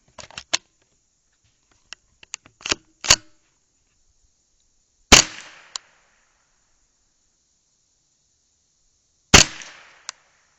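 .22 LR rifle rounds fired at a target 100 yards out, loaded with Standard Plus ammunition: a cluster of sharp cracks early, then two louder isolated shots spaced several seconds apart, each with a short decaying tail, in otherwise quiet surroundings.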